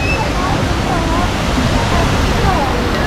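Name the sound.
flowing river at Tala River Park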